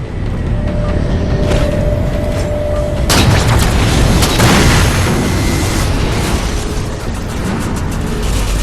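In the Halo 4 video game, an explosion strikes the Mammoth vehicle: a loud, sudden boom bursts in over steady battle rumble and then gives way to a heavy, sustained roaring wash of debris and noise.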